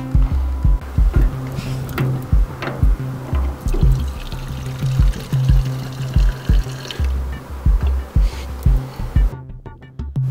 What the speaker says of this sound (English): For our fuel check, we want to sump the lowest point in the fuel tank.